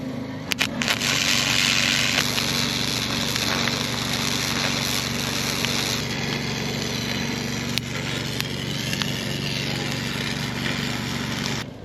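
Arc welding on a metal fence gives a steady, loud crackling buzz over a low electrical hum. It runs unbroken for about twelve seconds with no talking.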